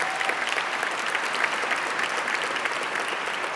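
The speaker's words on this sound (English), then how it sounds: "How about a round of applause for our MCs?" A banquet-room audience at an honoree gala applauds the MCs, a steady, evenly spread roar of many people clapping that holds at constant level for the whole stretch, with no talk over it.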